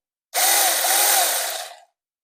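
A cordless battery-powered garden saw starts up and runs for about a second and a half with a steady, loud buzzing whine, then cuts off into silence.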